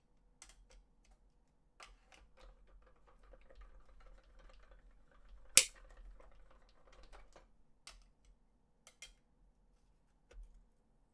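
A die cutting machine cuts paper ghost shapes for a Halloween card, giving quiet mechanical clicks and rattles with one sharper snap near the middle, all faint and close.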